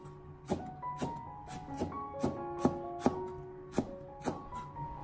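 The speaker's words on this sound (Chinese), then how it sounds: "紧接着再准备两根长线椒，清洗干净以后把它改刀切成马蹄片。" A knife chops two long green chili peppers into slanted slices on a cutting board, about a dozen crisp, evenly paced knocks close up in a quiet kitchen.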